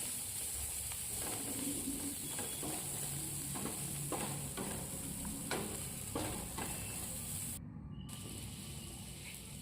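Onions fry in a pan for a prawn curry with ground jackfruit seeds, giving a steady close sizzle with scattered scrapes from stirring and a brief dropout near the end.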